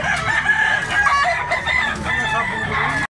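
A spangle white bullstag rooster crows close by, one long loud harmonic cock-a-doodle-doo call lasting nearly three seconds before cutting off.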